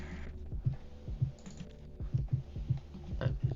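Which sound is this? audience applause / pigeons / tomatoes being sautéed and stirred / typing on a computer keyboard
typing on a computer keyboard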